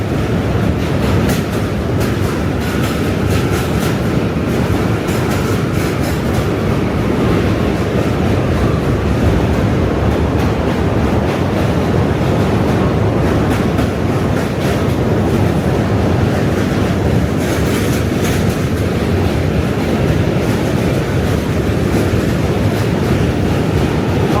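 A train rumbles past nearby in New York City, a loud continuous roar with a faint rhythmic clatter of wheels on track that persists throughout.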